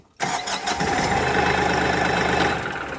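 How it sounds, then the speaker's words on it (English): A Kioti CK10SE tractor engine cranks briefly and catches, then settles into a loud, steady idle with a rough, chugging rumble close by. "I can start the tractor right now without being on it and without pushing the clutch in."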